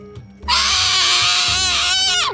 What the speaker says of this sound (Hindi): हवेली के भीतर से एक गहरी, डरावनी आवाज आ रही थी, जैसे किसी का चीखना